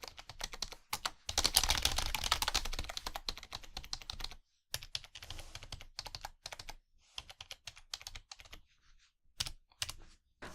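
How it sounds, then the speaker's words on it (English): Typing on a Logitech K830 illuminated wireless keyboard, a steady patter of soft, quiet key clicks in quick irregular bursts with brief gaps, no talk. "So here's how it sounds when you're typing on it."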